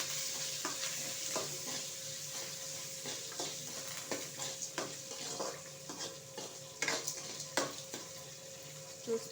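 Small chopped onion and two green chillies fry in oil for upma, a soft steady sizzle with repeated stirring scrapes and clinks of a spoon against the pan.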